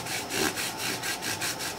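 Fine 6000-grit paper rubbed over a Brazilian rosewood guitar neck, a soft steady rasping in even back-and-forth strokes, close and quiet with no voices.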